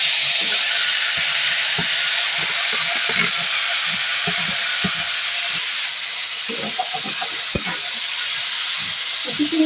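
Chopped snake gourd sizzles in a pan of onion and garlic fried until lightly browned, a dense steady hiss with scattered clicks and scrapes of stirring throughout, close and fairly loud.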